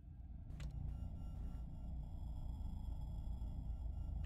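Engine drone of a car driving in the video game Cataclysm DDA, a steady low rumble that holds loud and constant throughout with a few brief clicks near the start.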